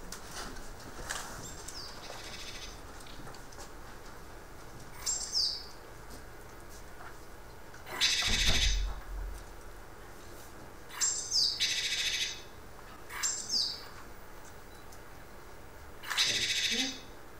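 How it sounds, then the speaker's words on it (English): Birds sing outdoors in scattered bright phrases, separated by quiet gaps over a soft background hush, with one louder burst midway. "The sun is shining, the birds are singing. Let's listen to the birds."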